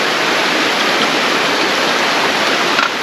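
A river rushes steadily past a campsite, a dense, loud, continuous wash of flowing water heard up close with no talk over it.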